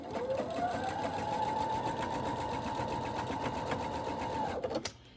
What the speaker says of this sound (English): So I'm just sewing along this seam using my 1/4 inch seam allowance.